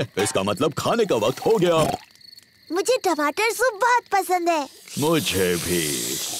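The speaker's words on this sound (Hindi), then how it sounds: "ये कीड़ों की चीची आवाज है।" Cartoon night insects chirp steadily in the background of a camping scene while characters talk over them, growing more noticeable near the end.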